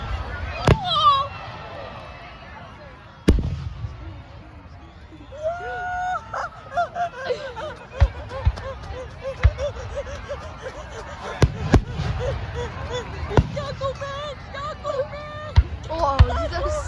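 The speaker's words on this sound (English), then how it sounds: "The fireworks are starting!" Fourth of July fireworks bursting at a night show: sharp booms and cracks recur irregularly over several seconds, with people talking and exclaiming throughout.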